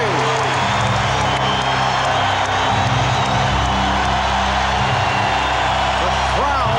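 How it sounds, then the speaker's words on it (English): Basketball arena crowd at the 1996 NBA Finals, Game 5, Chicago Bulls vs Seattle SuperSonics, roaring steadily and densely throughout, a loud sustained wash of cheering under a commentator's voice. "The crowd very much back into it."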